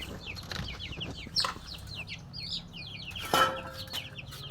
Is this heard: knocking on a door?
no